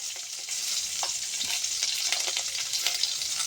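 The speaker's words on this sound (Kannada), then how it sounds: "ಈಗ ಕಾಯಿ ಮೆಣಸು ಸ್ವಲ್ಪ ಫ್ರೈ ಆಗಲಿ, ಆಗ ಟೇಸ್ಟ್ ಆಗ್ತದೆ" Green chillies fry in hot coconut oil in a pan, a steady close crackling sizzle with a few stirring scrapes and taps, no voices.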